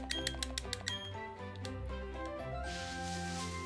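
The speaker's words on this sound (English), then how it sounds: "Can you hear me clicking?" Buttons on a Nintendo Switch controller click in a quick burst of sharp, close taps at first, then fewer scattered clicks against a sustained game music background.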